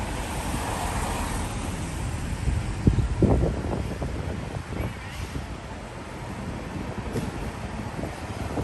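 Steady wind rushes and buffets outdoors on a rainy day at a street fair in Lexington, Kentucky, with a low rumble and brief gusts, broad and constant throughout.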